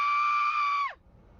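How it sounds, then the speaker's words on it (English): An abnormal scream from a movie clip, a single loud sustained high-pitched shriek held nearly a second before sliding sharply down and cutting off into quiet. "The scream is very abnormal."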